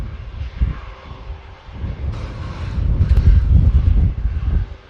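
Atlas Air Boeing 747 taxiing for departure at Manchester Airport, a steady roar of jet engines with broad rumble that swells gradually, heard from nearby amid gusty wind on the microphone.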